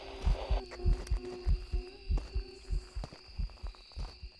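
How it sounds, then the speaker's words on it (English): Heartbeat in the horror video game Phasmophobia during a ghost hunt: a steady, loud double-thump pulse repeating about twice a second over a low hum, with no talk. "Calm down, heartbeat."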